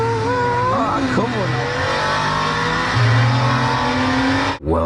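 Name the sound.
cars driving at the Nürburgring tourist drive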